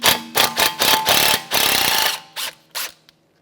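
A ratchet driving a T30 Torx socket to remove the brake rotor hold-on screw on a Chevrolet Trax. A rapid run of loud, close clicking bursts is followed by two slower, separate clicks as the screw comes free.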